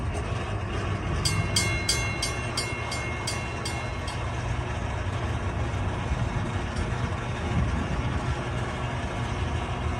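Train rumbling past a railroad crossing whose signals are malfunctioning from low power. A loud, steady roar of rolling cars with a short run of bright metallic clicks near the start and no voices.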